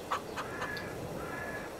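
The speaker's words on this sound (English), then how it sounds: "Today we are going to start off by feeding the chickens." Farm chickens cluck softly in Farming Simulator 22, a few faint, scattered calls over a low steady background hum.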